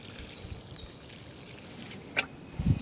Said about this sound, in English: we'll give it some more water.